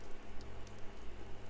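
Steady rain falls in the video game Fire Emblem: Three Houses, a soft continuous patter and hiss with faint scattered drops, low and even throughout.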